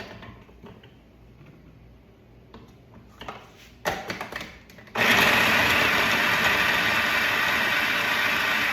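A blender making pickle relish starts up abruptly and runs loud and steady, a dense whirring roar after a few seconds of quieter clattering and handling noises.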